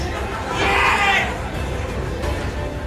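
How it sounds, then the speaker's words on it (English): Passionate crowd at a professional boxing match featuring Filipino fighters: a swelling roar of cheering and chatter rises briefly, then settles into steady arena murmur. "Very passionate crowd."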